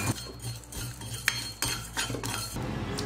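Cumin and spices dry roasting in a bare kadai without oil for garlic thokku, a metal spoon scraping and stirring against the pan in repeated clinks and rattles, close and clear with no talk.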